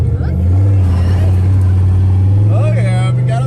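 A turbocharged Fox Body car with a stage 3 clutch does a burnout, its engine roaring loud and close in a sustained droning growl, with rising squeal-like tones near the end.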